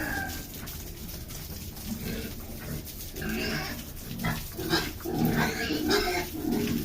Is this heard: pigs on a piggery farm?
yes